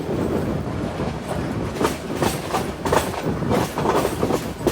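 Chattogram Mail train at Bhatiary railway station, a loud continuous rumble with rhythmic clickety-clack of wheels passing over rail joints.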